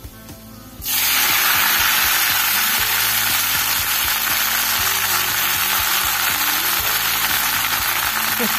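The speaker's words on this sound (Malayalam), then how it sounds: "മൾബറി ഇല അതിലേക്ക് ഇട്ട് കൊടുക്കാം" Washed mulberry leaves dropped into hot coconut oil with spluttered mustard seeds, a loud, steady sizzle bursting in after a quiet start and frying continuously to the end, with faint scraping of a pan underneath.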